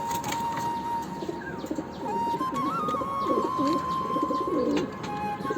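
Pigeons coo continuously in a rooftop loft, a low, close, rolling burble with a few faint chirps and a steady background hum.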